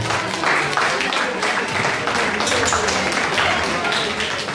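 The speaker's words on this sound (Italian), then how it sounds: "Un bellissimo applauso ancora per loro" Audience at a lively Italian entertainment event claps for the winners, steady mid-level applause with rapid overlapping hand claps and some voices mixed in.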